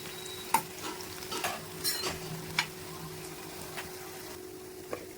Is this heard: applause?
no